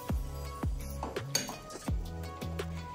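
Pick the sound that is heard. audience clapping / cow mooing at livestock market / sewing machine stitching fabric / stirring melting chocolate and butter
stirring melting chocolate and butter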